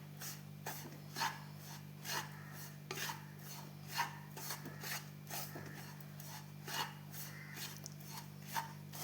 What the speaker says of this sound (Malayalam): എല്ലാം കൂടി മിക്സ് ചെയ്യാം.